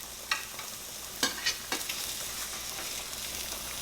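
Scallops and king oyster mushrooms sear in a hot pan, a steady hiss broken by a few sharp scrapes and clinks as they are stirred, up close with no talking.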